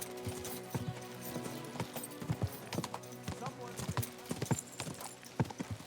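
Horse hooves clip-clop at a gallop in the medieval RPG Kingdom Come: Deliverance 2, a steady rhythmic run of close, sharp hoof strikes with game music underneath and a voice speaking over it.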